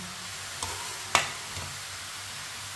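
Carrot halwa cooking in a pan while a spoon stirs it, with soft continuous sizzling and a few brief spoon scrapes and knocks, one sharper, heard close with no talking.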